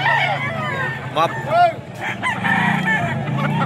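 Roosters and a bullstag crow loudly at close range on a farm, rising drawn-out calls mixed with scattered clucking, while someone talks over them.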